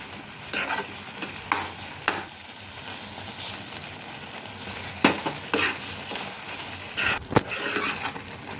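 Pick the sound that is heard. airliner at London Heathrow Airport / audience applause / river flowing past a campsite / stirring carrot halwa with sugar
stirring carrot halwa with sugar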